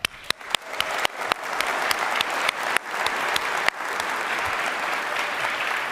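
An audience at a 2024 summit keynote breaks into applause for award winners, starting with scattered loud claps that quickly swell into dense, sustained clapping from a large crowd.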